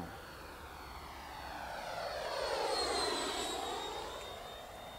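A Freewing F-104 Starfighter 90mm EDF RC jet with HP 9B 1900kv power flies past, its steady ducted-fan whine swelling as it nears around mid-clip and fading again, sounding moderately distant and alone.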